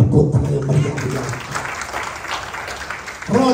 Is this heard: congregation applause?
yes